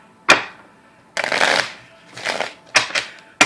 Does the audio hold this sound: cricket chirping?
no